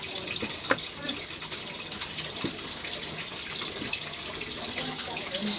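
Water runs from a tap in a kitchen sink in a steady broadband rush, accompanied by clatter from plates and short bursts of nearby voices.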